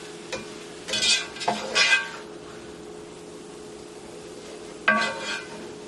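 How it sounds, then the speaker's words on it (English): Egg is stirred and scrambled in a pot of cauliflower fried rice, with a few short scraping bursts of a utensil against the pan over a faint sizzle. "I'm just literally just scrambling the egg. I'm moving it around and scrambling it."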